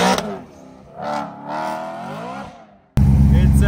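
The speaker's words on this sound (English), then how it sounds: "I have to do donuts until my car starts running on 5 cylinders again" BMW E90 M3 V8 doing donuts, engine revving in uneven surges with pauses between bursts, then cutting into a loud harsh roar near the end, close and without talk.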